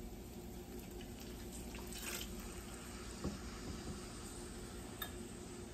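Water is poured into a pan of sizzling taco meat seasoned with cayenne, a soft splashing pour with faint hissing and a few light clinks, quiet and close.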